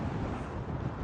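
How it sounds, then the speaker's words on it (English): Steady wind buffeting the microphone while riding an electric bike along a trail, a dense continuous low rumble with no pauses, loud and close throughout. "it's quite windy, it's quite breezy"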